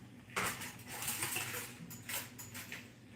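A spoon clinks against dishes in a home kitchen during cooking, a handful of light metallic taps and scrapes spread over a few seconds, close and fairly quiet.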